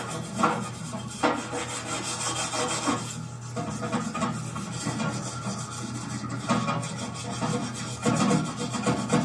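A Mazda RX-7 13B rotary engine rotor housing is scrubbed by hand in a parts washer, producing a steady, close rasping and rubbing sound with uneven bursts of strokes and no talking.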